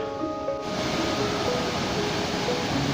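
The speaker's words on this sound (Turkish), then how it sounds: "ve Kürekli Dere Şelalesi'ne merdivenleri çıktıktan sonra varıyoruz. Yaklaşık 70 metreden dökülüyor." The Kürekli Dere waterfall drops about 70 metres, a dense, steady roar of falling water that fills the scene with continuous broadband rushing and no pauses.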